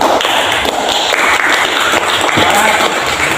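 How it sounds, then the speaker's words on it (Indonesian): An automotive class claps together after finishing a spray-gun painting project, with close, loud, dense clapping and a few heavier taps and thumps mixed into the sound. "Kita tepuk tangan dulu."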